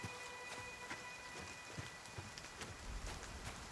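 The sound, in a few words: rain in the video game Nightingale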